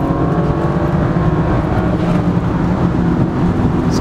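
A 400 hp BMW 335i turbo with a blow-off valve accelerates hard. A loud, steady engine drone fills the cabin throughout, with a sustained rumble and a whir but no distinct venting hiss.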